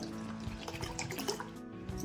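Water is poured into a bowl of sattu flour mixed with dry mango powder and salt, a steady splashing, trickling pour heard close and alone, without any talk.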